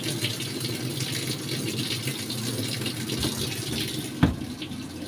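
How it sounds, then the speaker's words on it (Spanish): Water pours steadily into a cup for several seconds, a close, continuous trickling gush with a small clink near the end and no talking. "Voy a colocar mi agua"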